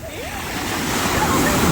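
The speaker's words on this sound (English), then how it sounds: "The waves are serious this morning." Ocean surf breaks on a beach on a cold morning, a steady close wash of foam and rushing water building slightly louder throughout, with no voices over it.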